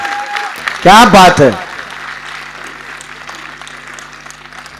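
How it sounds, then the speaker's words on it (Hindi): Applause from the crowd at a comedic poetry show rolls on as a steady, moderate patter, while someone speaks loudly over it near the start. "तालियां बजाएं।"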